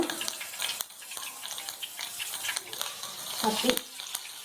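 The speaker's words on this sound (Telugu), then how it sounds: "పచ్చిశనగపప్పు వేసుకొని ఇవి బాగా వేగేదాకా కలబెట్టుకోవాలి." Chana dal, cumin and mustard seeds frying in a pan while being stirred, a steady crackling sizzle with scraping strokes at close range and no talking.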